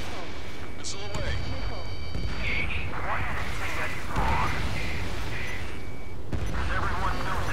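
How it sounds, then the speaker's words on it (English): A missile launch in Ace Combat 7 whooshes amid jet engine roar and in-game radio chatter, with bursts of gunfire-like pops and steady engine noise underneath. "Missile away."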